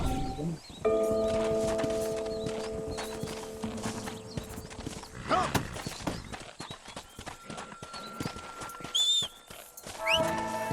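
Horse hooves clip-clopping in the video game Red Dead Redemption, a brisk irregular clatter up close over in-game ambience and musical tones, with a horse whinny near the end.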